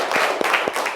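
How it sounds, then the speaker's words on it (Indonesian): Children in a classroom clap together in a short burst of applause, with steady, fairly close rhythmic claps and no talking over it. "Tepuk tangan ya, kalian hebat semuanya ya nak ya."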